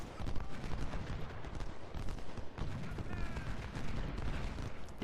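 Dense, continuous volleys of massed musket and cannon fire from a Civil War battle in the strategy game Ultimate General: Civil War at Chantilly, rattling steadily without pause.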